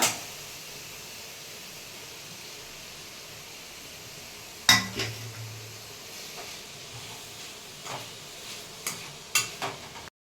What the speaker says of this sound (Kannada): ಕ್ಯಾರೆಟ್ ಬಂದು ನೀಟಾಗಿ ಫ್ರೈ ಆಗಬೇಕು ಹಸಿ ಇದೆಲ್ಲ ಸ್ಮೆಲ್ ಎಲ್ಲ ಹೋಗ್ಬೇಕು ಆ ಫ್ರೈ ಮಾಡ್ಕೊಬೇಕು ಇದನ್ನ